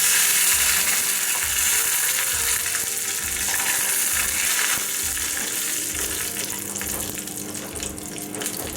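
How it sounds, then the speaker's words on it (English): Whole red chilies, urad and chana dal, and curry leaves fry loudly in hot oil for a tempering, a dense, continuous close-up sizzle with faint stirring and no voices. "2 whole red chilies, and little bit of udad and chana dal, and little bit of curry leaf"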